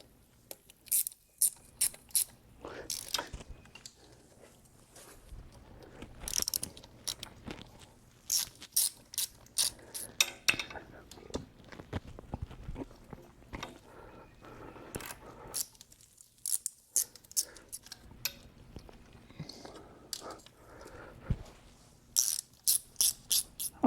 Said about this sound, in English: I can go ahead and tighten all these back up. And once again, these are 8 millimeters.